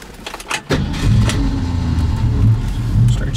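A 1966 Ford Mustang engine cranks briefly, fires and settles into a steady, deep idle around 500 RPM, close and loud with a continuous low rumble.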